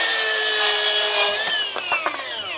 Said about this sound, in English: this saw it's like handling a normal skill saw